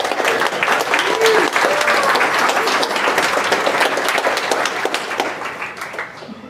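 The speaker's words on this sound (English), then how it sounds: "Can we just get a round of applause" Applause from a talk audience at a Designers + Geeks event, a dense, steady wash of clapping that fills the room and slowly fades toward the end.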